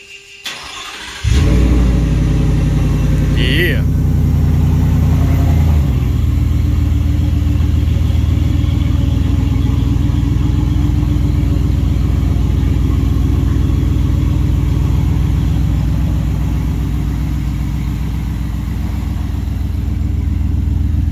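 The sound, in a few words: 2023 Ford F150 engine started and revving with muffler delete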